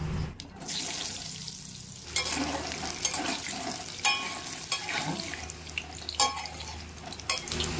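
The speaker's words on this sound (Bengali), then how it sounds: "তেলের মধ্যে ফোড়নে দেব কালো জিরি বড় বড় করে কেটে রাখা আলু" Potatoes cut into large chunks frying with black cumin seeds in hot oil in a wok, a steady sizzle with stirring scrapes and clinks throughout, fairly close and alone without talk.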